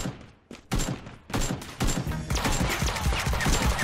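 Rapid bursts of gunfire in the mobile shooter game Knives Out crack out in repeated volleys, loud and sharp, growing denser toward the end with no talk over them.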